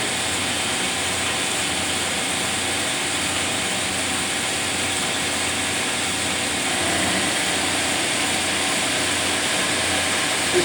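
Horizontal bandsaw feeding through a cut, a steady, loud, continuous whine and grinding drone with no change in level throughout.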